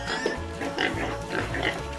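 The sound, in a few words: pigs oinking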